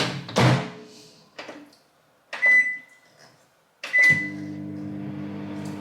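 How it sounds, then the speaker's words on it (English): A kitchen microwave oven heating lunch topped with goat's cheese: a door clunks shut, a few short knocks and button beeps follow, then the oven starts with a steady low hum running on alone. "Put it in the microwave."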